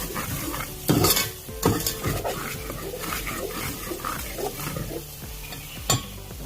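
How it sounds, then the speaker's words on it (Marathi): Salt is stirred into a chicken and spinach masala in a village-style kitchen, with a spoon scraping and clinking against the pot over a soft sizzle and a few sharper knocks. "मीठ चवीनुसार मिक्स करून घेऊ एकदम चांगलं"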